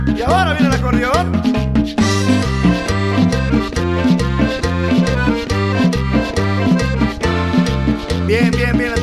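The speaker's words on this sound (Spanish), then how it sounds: "Y ahora viene el acordeón." An accordion carries the tune in a cumbia, bright reedy phrases running over a steady thumping bass and percussion beat, loud and continuous.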